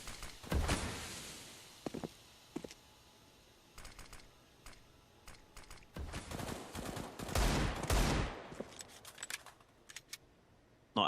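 Gunfire from the video game Counter-Strike during a Navi vs Forze StarLadder CIS RMR match, with irregular bursts of rapid shots and sharp single cracks scattered through the stretch, loud and close, without talk.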